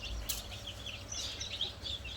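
Faint high-pitched chirps and peeps from newly hatched chicks in an incubator repeat irregularly over a quiet background with low rumble.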